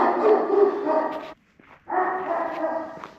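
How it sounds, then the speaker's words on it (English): A dog barks loudly and insistently in a nearby outdoor spot, two sustained bursts of harsh, yowling barks split by a short pause. "wonder how long he's going to keep on barking for."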